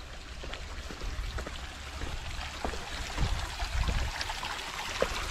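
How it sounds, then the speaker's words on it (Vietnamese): Spring water flows steadily out at a mountain temple with a large stone Buddha statue, a continuous trickling, splashing stream heard close and evenly throughout with no talk. "Đây là hoàn toàn nước suối chảy ra đây hết nha các bạn."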